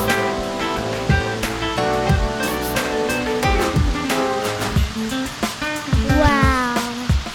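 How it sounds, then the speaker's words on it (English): A waterfall at Papa John's park in Louisville, Kentucky, gives off a continuous rushing roar, mixed with strong tonal sounds layered over the water noise. "I can feel the sound of the waterfall."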